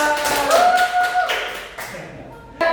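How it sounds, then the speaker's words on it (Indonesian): Fourth-grade schoolchildren clap briefly in a classroom, a short burst of quick taps mixed with a sustained tonal sound and nearby voices, ending with a sharp tap. "Tepuk tangan buat dia."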